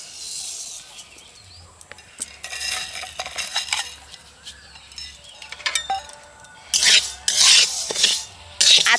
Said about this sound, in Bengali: মুগের ডালটা এখন আমি শুকনো কড়াই ভেজে নেব।